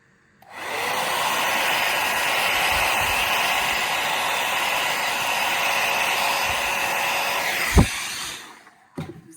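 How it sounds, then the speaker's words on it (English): A hairdryer switches on and blows with a steady, loud whooshing roar, then cuts off near the end. "and then we blow it out with our hairdryer."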